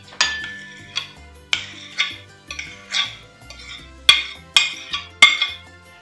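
Avocado puree is scraped from a plate into a bowl with a fork, making a series of sharp ceramic clinks and scrapes spaced irregularly about half a second to a second apart, close and clear, with no talking.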